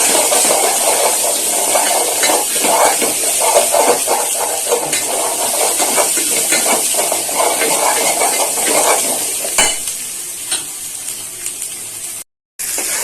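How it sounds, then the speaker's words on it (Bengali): Turmeric and chilli powder sautéing in a pan for a rohu posto curry, giving a loud, steady hiss with scattered crackles and scraping throughout, broken by a brief gap near the end. "এক চামচ হলুদ হাফ চামচ লঙ্কার গুঁড়ো মশলাটা কষিয়ে নিই"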